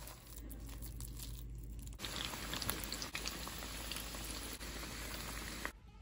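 Lentil piyaju fritters made from khesari and masoor dal fry in hot oil, a dense crackling bubbling hiss that swells louder partway through, steady and close with no voices.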